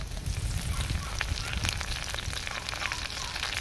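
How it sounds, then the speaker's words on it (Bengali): Dried red chillies and bay leaves hit hot oil with a loud, crackling sizzle and popping spatter that stays constant and close throughout. "দিয়ে দিচ্ছি শুকনো লঙ্কা তেজপাতা।"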